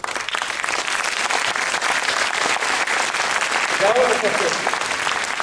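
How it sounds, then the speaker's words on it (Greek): Concert audience in Thessaloniki applauding, a dense sustained roar of clapping filling the hall, with a voice speaking briefly over it. "Δείξτε το με το πιο αποφασιστικό χειροκρότημά σας."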